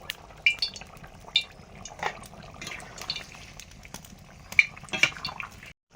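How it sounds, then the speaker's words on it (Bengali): Fish slipped into a boiling curry of cucumber and shrimp cooked in mustard oil in a home pan, giving a faint steady bubbling with a few small clicks and splashes, no voices. "ঝোল ফুটে গেছে, মাছ দিয়ে দিলাম।"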